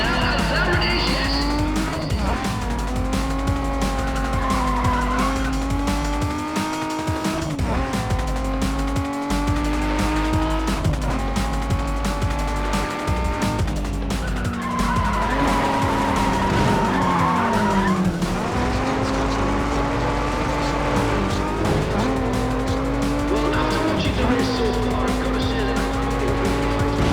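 Race cars in Need for Speed ProStreet on PS2 skid with long, loud tire squeals over roaring engines throughout, several cars in play at once, with a commentator speaking over the action.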